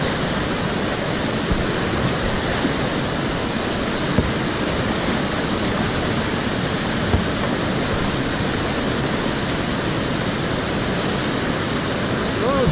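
White water rushing down the Lower Tryweryn river in Wales, a loud, steady broadband roar with no breaks, flowing continuously close by.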